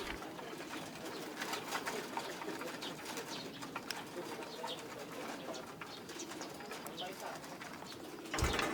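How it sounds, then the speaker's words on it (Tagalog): Racing pigeons coo softly in a loft during a training race arrival, with a low continuous murmur of cooing and faint fluttering, and a brief louder rustle at the end. "biglang dumating yung isang iniintay natin na pang tracing ibon"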